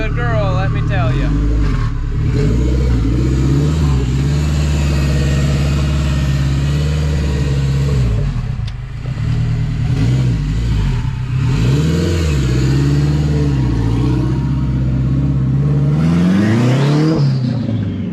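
A car fitted with a swapped Honda K24 four-cylinder engine revs up repeatedly and loudly from idle, the note climbing and falling in bursts over a steady running drone, with voices talking over it.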